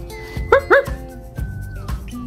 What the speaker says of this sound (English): is for dog.